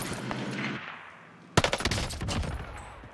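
Gunfire in the video game Call of Duty: Warzone Pacific, a sharp burst of rapid automatic shots cracking in close succession, followed by a rumbling tail.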